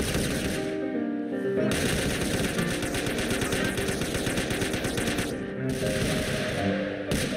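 Rapid, dense gunfire in a Loquendo-voiced video game episode with jaba and trolls, loud and sustained bursts of shots that overlap continuously with short breaks, close and alone without audible talk.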